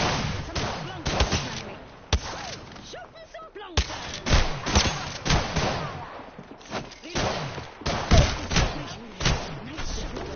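Gunfire in Apex Legends, with automatic bursts and single sharp shots that come in uneven clusters with short gaps, some close and loud, others thuddier. A player's voice talks over the shooting.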